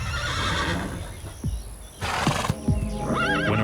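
Wild stallions neigh with loud, shrill, wavering whinnies, a couple of short snorts and grunts in between, then one more rising whinny over a rough outdoor background.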